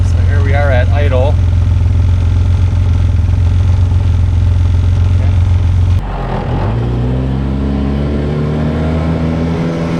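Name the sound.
UTV engine idling with sound deadening installed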